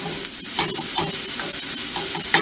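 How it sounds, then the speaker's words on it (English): Mushrooms sauteing in olive oil in a pan give a steady close sizzle with small crackles and light stirring, loud and continuous with no voices. "So we're going to saute this for a minute."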